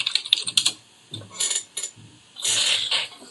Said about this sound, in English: We heard you typing while I was saying this.